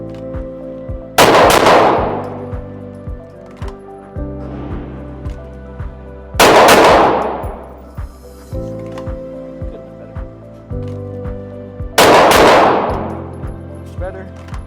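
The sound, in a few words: gunshots in a shooting drill on the range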